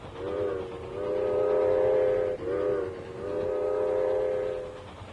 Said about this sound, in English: It was the sound of a whistle.